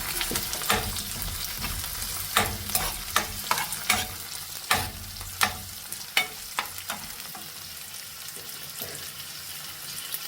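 Sliced onions frying in hot oil with cashews and almonds added, a steady sizzle broken by frequent sharp scraping clacks of a spatula stirring the pan, close and loud, while white mutton kurma is being prepared.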